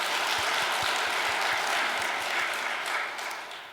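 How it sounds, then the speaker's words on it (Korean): Sustained applause from a church congregation during a Sunday worship service, a full wash of clapping that holds steady and then starts to thin out toward the end. "하늘 부모님과 참 부모님께 감사의 박수를 보내드리겠습니다"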